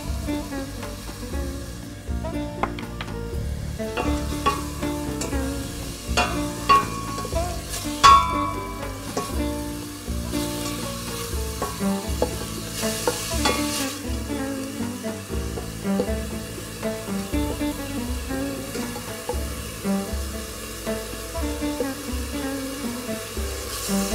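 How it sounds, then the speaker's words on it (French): Onions cooking in a pot as the base of a basic Moroccan barley soup with oregano, giving a steady sizzle and stir for the whole stretch, close and moderately loud, with no talking. "je vais attendre que les oignons cuisent un petit peu"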